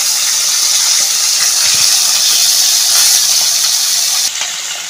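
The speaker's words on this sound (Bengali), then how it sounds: "এবার মাছগুলো আমি ভেজে নেব। গরম হয়ে গেছে, আমি মাছটা ভেজে নেব।" A red-eyed sea fish fries in hot oil in a home kitchen. It makes a loud, steady sizzling hiss that runs unbroken and drops slightly near the end, with no talking.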